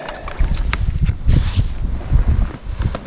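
Wind gusts buffet the microphone outdoors in freezing sub-zero cold, rough low rumbling bursts that rise and fall, with some rustling movement nearby.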